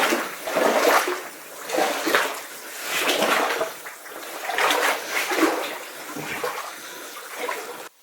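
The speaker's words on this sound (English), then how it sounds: "we've got some funky water right here. Probably hear it bubbling and oozing" Water bubbling and oozing inside an abandoned Nevada mine, heard as irregular gurgling surges that rise and fall in close, hollow-sounding bursts with no talk.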